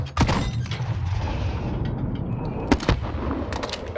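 A rooftop flare launcher fires in Call of Duty: Modern Warfare as a sharp boom, followed by a sustained hissing whoosh and then a couple of further sharp cracks and thumps.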